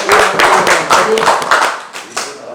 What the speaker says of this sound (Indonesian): Tepuk tangan dulu ya